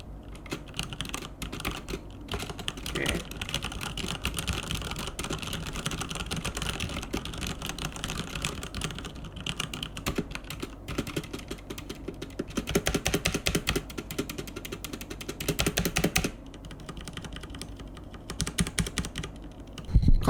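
Steady typing on an MSI mechanical keyboard fitted with red switches, a close, dense run of key clacks lasting throughout with slightly louder bursts near the end and no talking.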